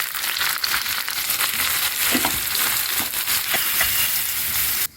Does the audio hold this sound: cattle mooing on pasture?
no